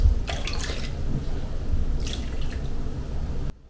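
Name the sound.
pouring warm water into a bowl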